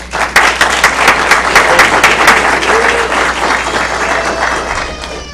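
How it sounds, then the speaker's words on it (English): An audience at a startup accelerator graduation ceremony applauds mentors with loud, sustained clapping and some cheering that fills the room and fades slightly toward the end. "That's a cheer."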